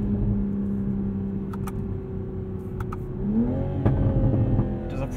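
A 2021 Toyota Supra 3.0 Premium engine pulls steadily from inside the cabin, its hum dropping and rising again through a quick gear shift from the automatic transmission, with faint clicks over the drone.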